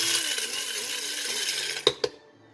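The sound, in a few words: coffee grinder grinding coffee beans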